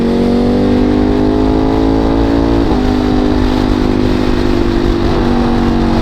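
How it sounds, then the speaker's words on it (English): Freeway traffic in heavy congestion, heard from a moving motorcycle, a loud continuous engine drone and wind roar with rising and falling engine pitch, close and steady throughout without speech. "A lot of traffic right now."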